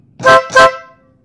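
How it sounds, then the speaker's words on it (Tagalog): A compact car horn, wired through a relay with a second horn, gives two short loud honks about a third of a second apart, each ringing out briefly after release. "Pag nilipat ko naman sa kabila guys, ang tutunog yung ating compact horn."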